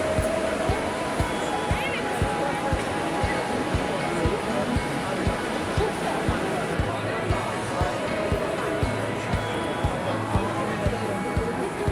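Water splashes and rushes steadily from a fountain in Rome, a dense, constant roar with crowd chatter and footsteps mixed in throughout.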